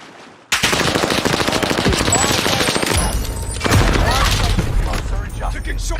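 Sustained, dense machine gun fire in the multiplayer shooter Vanguard, loud and close with overlapping bursts and booms, continuing almost without pause after a sudden start.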